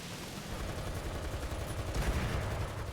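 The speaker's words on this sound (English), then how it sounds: "Using that machine gun, kind of focusing on the guns, hoping to do damage." Machine gun fire from a tank in a video game, a steady dense rattle of rapid shots that runs without a break for about three seconds at moderate volume.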